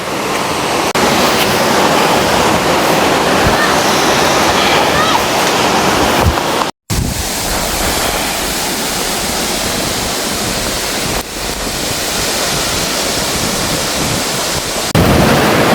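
A large waterfall pours steadily, its falling water throwing up a fine spray. The broad, continuous roar of rushing water fills the whole clip at close range, with a brief dropout near the middle and no voices heard.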